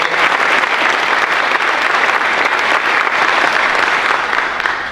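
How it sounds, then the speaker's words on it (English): Loud, dense round of applause from an audience at a civic event on a $10 million downtown revitalization grant in Geneva, sustained evenly for several seconds with no talking over it. "Let's give him a round of applause to Charlie Evangelista."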